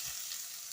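Onion frying in hot oil with cumin and pulao masala for palak rice, a soft steady sizzle throughout, close and quiet, with no voices.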